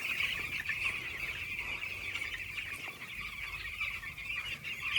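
A flock of ten-day-old broiler chicks on a poultry farm, continuous high peeping and chirping from many birds at once, steady and close with no talk.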